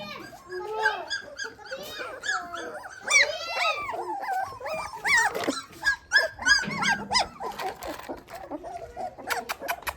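A puppy barks and howls in a series of yelps and drawn-out wavering cries, close and fairly loud, with children and adults talking over it.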